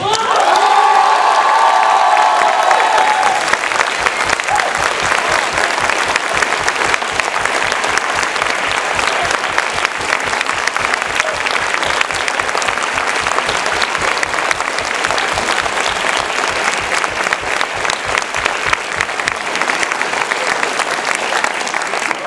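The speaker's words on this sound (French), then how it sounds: "Je voudrais que vous fassiez une ovation à Adrien Langenet." At a student music concert, an audience gives a long, loud ovation of sustained clapping mixed with cheers and whoops, steady and dense throughout, with brief voices at the start.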